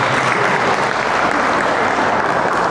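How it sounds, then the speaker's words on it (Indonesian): A large audience at an Islamic sermon breaks into steady, dense applause, a continuous wash of clapping that stays loud and even throughout. "Tepuk tangan dulu untuk kita semua"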